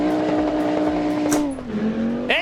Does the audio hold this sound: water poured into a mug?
no